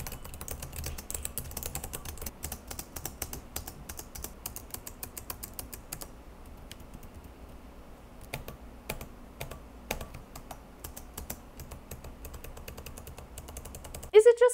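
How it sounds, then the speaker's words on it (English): Rapid clicking of an Alienware m17 R5 gaming laptop's keys, typed in irregular bursts with a brief lull midway, fairly close and quiet. "Do you want to hear what the keyboard sounds like?"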